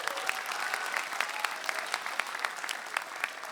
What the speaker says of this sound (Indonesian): Tepuk tangan untuk kru film yang ada di Indonesia.